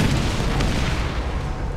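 The Boomstick shotgun in the Borderlands video game fires a six-round magazine of rockets, heavy booming blasts that roll together into a dense, loud, continuous rumble without talk.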